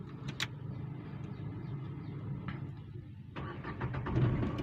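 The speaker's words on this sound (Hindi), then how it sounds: "चलिए गाड़ी चालू कर लेते हैं।" Car engine starting inside the cabin, with a brief crank followed by the engine catching and settling into a low, steady idle that rises a little toward the end.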